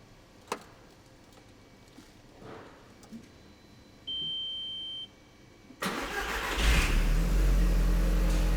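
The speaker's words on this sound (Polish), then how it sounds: "Odpalamy nasz samochód." A car engine is cranked and started after several quiet seconds of small clicks and a brief tone, then settles into a loud, steady idle. The car is being serviced during a power steering fluid change.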